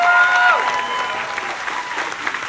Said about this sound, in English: One more big hand for the Red Dead Trio.